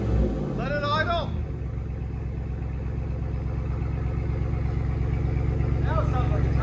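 A Ram Power Wagon pickup's 6.4-litre Hemi V8 with aftermarket exhaust drops out of a final rev into a steady, low burbling idle, close by, while people talk over it.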